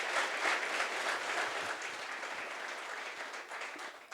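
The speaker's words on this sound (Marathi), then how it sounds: "तर सगळ्यात मोठी टाळी द्या नाशिकसाठी." An audience applauds steadily in a hall during an interview, a dense, continuous round of clapping that holds at a strong level throughout with no voices over it.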